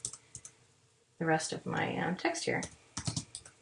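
Keys clatter on a computer keyboard as a magazine layout is typed in Photoshop, with short bursts of clicks in and around a person's talk.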